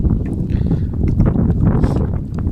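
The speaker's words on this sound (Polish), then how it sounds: "Wieje wiatrzycho zimne." A cold, strong wind gusts steadily across the microphone outdoors near water, producing a continuous low, buffeting roar throughout with no voices.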